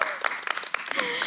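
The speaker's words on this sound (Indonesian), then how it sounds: "sebelumnya tepuk tangan dulu buat Pak Norma udah jawab" A small group claps for Pak Norma after he answers a question during a live regional radio talk show, a scattered, uneven patter of hands with a few sharper individual claps standing out.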